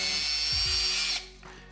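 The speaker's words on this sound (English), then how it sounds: "you do need to get a drill and drill these holes in" A power drill whines steadily for about a second while boring eyelet holes in a timber beehive honey frame, then cuts out; quiet and close.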